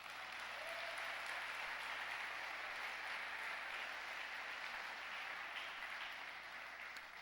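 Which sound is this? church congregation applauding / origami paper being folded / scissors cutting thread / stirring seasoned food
church congregation applauding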